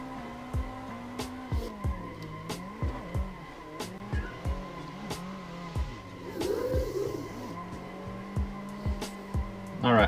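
A car engine in the driving game Assetto Corsa revs hard in repeated bursts with gear shifts during jump drifts at Ebisu Minami, and tire squeal rises midway; a voice can be heard briefly.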